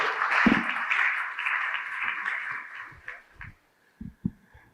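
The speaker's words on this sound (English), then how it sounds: "please, one more round of applause for Jumoke" Applause from the audience at a conference plenary session, loud and dense at first, then thinning out and fading after about three seconds, with a few low thumps near the end.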